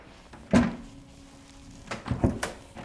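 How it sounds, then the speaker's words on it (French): Drawers in an abandoned manor sliding and knocking open, a sharp wooden thud followed later by a couple of scraping clunks, close and distinct in a quiet room. "il y a quelque chose dans les tiroirs ici."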